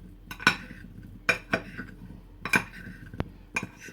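A spoon stirs cinnamon and mixed spice into a grape crumble base, giving a few separate clinks and scrapes against the bowl, close and fairly quiet with pauses between strokes.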